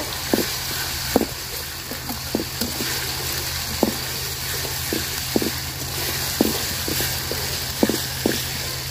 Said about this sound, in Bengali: মশলাটা আমি পেঁয়াজের সাথে সুন্দর করে ভাজা নিব।